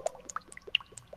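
Tomato juice being poured in a sparse plippity-plip pattern: a handful of light, separate droplet plips spread unevenly over a second, soft and close, heard alone.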